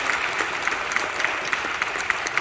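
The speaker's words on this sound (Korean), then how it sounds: "박수 한번 주시고." A church congregation claps together in a dense, even burst of applause during a sermon, steady and close with no voices over it.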